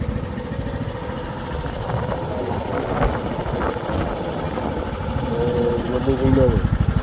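A John Deere LA100 riding mower's engine runs steadily at full throttle, a continuous mid-pitched drone that swells slightly louder near the end, with a voice speaking over it.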